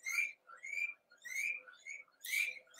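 Pet birds indoors chirp and whistle in close, bright bursts, about five or six calls in quick succession with short gaps, moderately loud and without talk.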